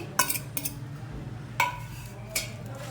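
A metal spoon stirs garlic and ginger paste into chickpeas in a pot, giving a few sharp clinks and scrapes against the vessel, spaced irregularly and fairly quiet.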